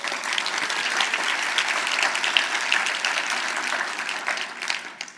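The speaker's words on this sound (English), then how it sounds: "Please give them a round of applause" An audience at a business nonprofit event gives a round of applause for a sponsor, a full, steady burst of clapping from many people that swells, holds, then fades toward the end.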